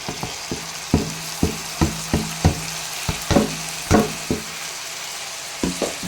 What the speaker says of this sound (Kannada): ಈಗ ಟೊಮೊಟೊ ಹಾಕ್ತಾಯಿದ್ದೀನಿ.